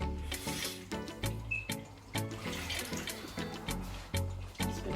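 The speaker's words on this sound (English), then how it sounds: "Just gonna put a little bit of water." Water poured into a pot of thick beef stew gives a close, steady splashing and trickling over about five seconds, with brief clinks and no talking.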